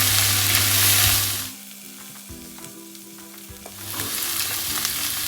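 Spices (hot pepper, smoked paprika, turmeric) stirred in a hot frying pan for a vegan broccoli dish: a loud, steady sizzle that drops quieter midway with scraping clinks, then swells again, with no voices.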